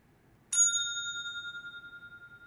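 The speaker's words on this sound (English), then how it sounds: "It was the wrong bell, but at least I got a bell off." A single bright bell ding sounds after a quiet moment, its clear tone ringing on and slowly fading with a gentle pulsing shimmer over two seconds.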